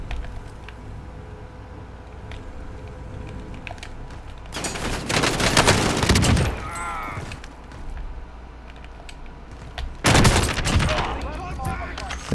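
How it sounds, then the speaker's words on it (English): Call of Duty Warzone gunfire comes in two loud, dense bursts of rapid shots, separated by quieter game ambience. "I'm getting shot at."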